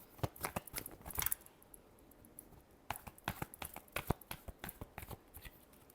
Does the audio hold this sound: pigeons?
no